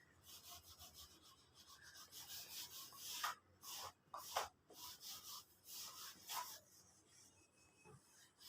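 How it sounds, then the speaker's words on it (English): A classroom board being rubbed clean, brisk back-and-forth scrubbing strokes in uneven bursts with short pauses, close and fairly faint, no talking. "Let me rub the board."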